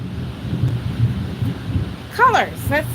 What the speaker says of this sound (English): there goes the thunder